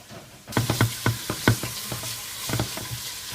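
Vegetables for a lasagne sizzle in a hot pan as a spoon stirs them, with sharp scraping knocks against the pan over a steady frying hiss, close and loud.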